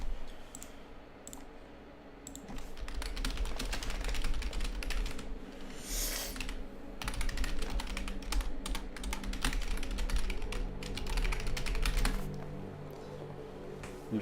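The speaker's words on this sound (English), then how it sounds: "I'm just typing something in the Discord server." Rapid clacking keystrokes on a computer keyboard, typed in steady bursts with brief pauses, close and clear over a low background hum, with no talking.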